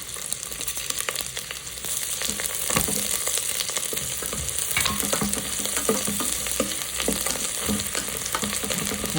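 Finely chopped garlic and ginger frying in butter in a pot for peas paneer pulao, a dense continuous sizzle with frequent stirring scrapes throughout, close and fairly loud, no voices.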